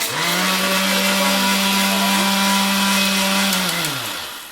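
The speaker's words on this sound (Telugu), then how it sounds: "ఫస్ట్ అయితే రైస్ అయితే నేను అలా రుబ్బేస్తున్నానండి" An electric mixie grinder whirs loudly and steadily as it grinds soaked rice into a batter, a strong motor drone that holds level, then slows and winds down at the end.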